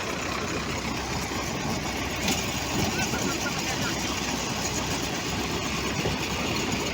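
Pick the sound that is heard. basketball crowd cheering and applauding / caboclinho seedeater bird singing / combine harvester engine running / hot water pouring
combine harvester engine running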